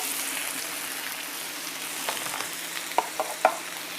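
Meat cooking on a ceramic far-infrared grill pan gives a soft, steady sizzle, with a few sharper crackles and pops near the end and no talking.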